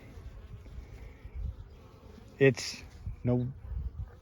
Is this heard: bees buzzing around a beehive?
yes